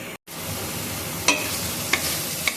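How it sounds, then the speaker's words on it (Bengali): A spice paste fries slowly in a pan for a chicken curry, giving a close, steady sizzle with a brief drop to silence near the start and a few sharp stirring scrapes and clicks over the hiss. "তো মশলাটা আস্তে আস্তে ভাজা হোক"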